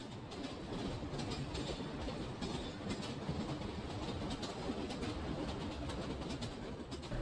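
A steady rumbling, clattering run of a model train, continuous and fairly close, with no talking.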